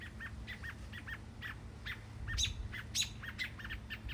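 Robins chirping in quick repeated calls while chasing each other, several short bright notes in bursts with a few sharper squeaks, moderately distant over a low background hum.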